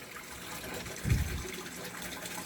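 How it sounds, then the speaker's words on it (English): Water splashes and trickles as a pump in a raised koi pond filter pushes flow from the sieve into the vortex, with a brief louder gush in the middle. "Pump starts to pump from the bottom of the sieve into the vortex."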